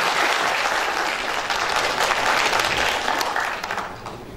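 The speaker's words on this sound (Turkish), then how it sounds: "alkışlarınızla Türkiye'ye davet ediyorum" Audience at a village folk minstrels' festival in Turkey applauding a guest being welcomed to the stage, steady close clapping that tapers off toward the end.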